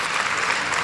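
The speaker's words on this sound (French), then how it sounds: "je vous demande de les applaudir quand même très fort" Audience applause at a New Year's staff address, a brief dense burst of clapping from a crowd with no voices over it.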